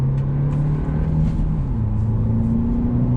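A 2021 Hyundai Elantra N-Line revs while being driven, its engine droning loud and low in the cabin, with the pitch sliding as revs change through a downshift.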